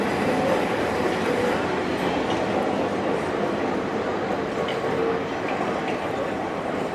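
A train rumbles past on the tracks in Athens, Greece, with a continuous roaring, rattling wash of noise, fairly close and steady throughout.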